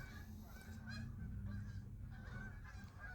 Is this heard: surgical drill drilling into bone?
no